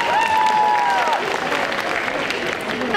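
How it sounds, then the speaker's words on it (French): A crowd at a cosplay parade during a Japan and manga festival in Quimper applauds continuously and loudly, the steady wash of clapping running under a brief tonal whistle or cheer near the start. "Et on l'applaudit encore!"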